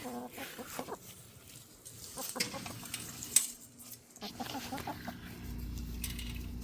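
Chickens cluck and fuss nearby, with scattered scuffling and a soft voice now and then, fairly quiet overall.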